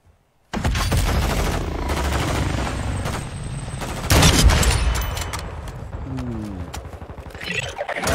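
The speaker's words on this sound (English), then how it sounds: "They're shooting on this side too." Rapid gunfire rattles through a video game shooting battle, with dense bursts and fusillades close and loud, sustained throughout after a sudden start.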